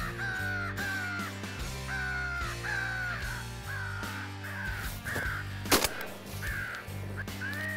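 Crows caw repeatedly during a crow hunt, answering a crow caller with a run of harsh, evenly spaced calls, while a single sharp gunshot cracks near the end.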